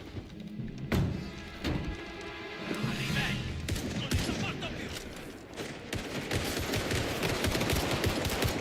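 Bursts of gunfire in the Indiana Jones and the Great Circle video game, with rapid machine-gun volleys building from scattered shots into a dense, sustained fusillade, mixed with thuds and a voice speaking.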